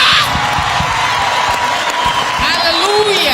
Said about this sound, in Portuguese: Vamos nos colocar em pé para aplaudir essa revelação para mim.